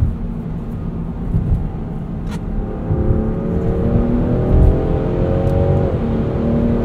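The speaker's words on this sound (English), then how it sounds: "This inline six is so smooth." A 2024 Land Rover Defender 130 Outbound's smooth inline-six engine accelerates steadily from the cabin, its rising drone climbing through a gear shift with road noise underneath.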